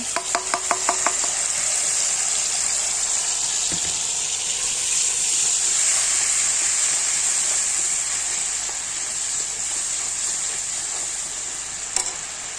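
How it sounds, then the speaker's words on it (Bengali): Poppy seed paste hitting hot oil in a wok raises a steady, loud sizzle with a hiss that lasts throughout, opened by a few quick clinks and a short scrape near the start. "কড়াইতে তেল গরম হয়ে গেল, এদের দিয়ে দিলাম পোস্ত বাটা"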